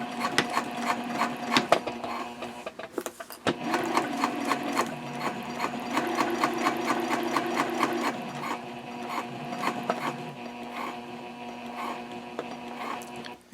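A sewing machine stitches a connector onto a fabric sling strap, its rapid rhythmic needle clatter running in bursts with a brief pause near the middle, close and clear with no voices.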